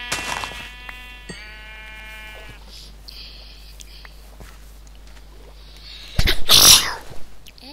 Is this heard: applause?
no